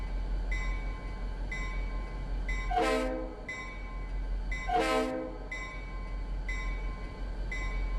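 An EMD SD40-2 diesel-electric locomotive in Train Simulator 2019 rumbles steadily with a low engine drone, while its horn sounds two loud, distinct blasts a couple of seconds apart.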